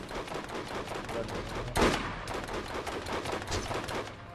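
Rapid gunfire in the video game Borderlands, dense bursts of automatic shots firing almost continuously with one heavier blast near the middle, loud and close with no speech.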